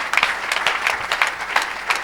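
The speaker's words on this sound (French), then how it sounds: "Acclamez pour Jésus." A church gathering applauds for Jesus, with dense, lively clapping from a crowd. The claps stay fairly close and keep an even, sustained rhythm through the whole moment.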